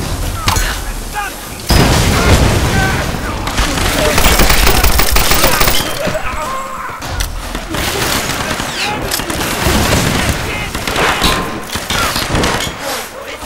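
Enemy gunfire in a Tomb Raider game, loud sustained bursts of automatic fire and heavy shots crackling close for most of the stretch, with a brief lull between volleys.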